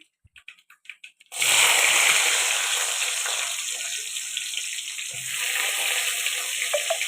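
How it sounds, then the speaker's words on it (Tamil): Onions and curry leaves hit hot oil for a dried fish curry, setting off a loud, steady sizzle. A few small clicks come first, then the frying holds strong to the end. "நல்லா பொரிய ஆரம்பிச்சிருச்சு இப்போ வந்து நம்ம வெங்காயம் சேர்த்துக்கலாம்"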